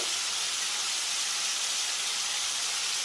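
Ginger garlic paste frying in hot oil in a pan for a poppy-seed jackfruit curry, giving a steady, even sizzling hiss that holds throughout without pause.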